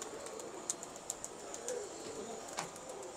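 Pigeons, including blue-chequered birds, coo softly in a quiet loft setting, the low murmuring calls faint and intermittent, with a few sharp little clicks and chirps scattered over a hushed background.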